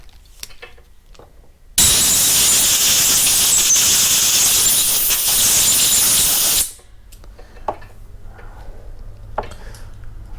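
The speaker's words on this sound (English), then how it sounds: "I'm gonna use the air compressor real quick." An air compressor's nozzle blasts compressed air over a small 5000-watt generator's carburetor in one loud, close hiss lasting about five seconds, with quiet handling noises before and after.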